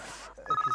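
A telephone starts ringing partway through with a pulsing electronic tone, following a brief stretch of muffled background noise.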